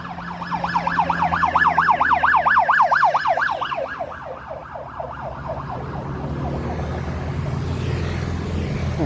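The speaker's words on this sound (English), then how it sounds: "Okay, here's the ambulance." A wailing ambulance siren on a street in Pattaya, Thailand, heading to an accident, sweeps up and down rapidly, loud at first and then fading as traffic noise rises in the background.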